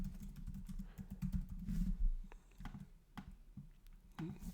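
Fingers tap out a search term on a computer keyboard, quick bursts of close, soft clicks with short gaps and no voices.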